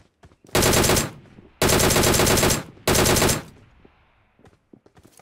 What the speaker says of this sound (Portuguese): o tiro tá vindo aqui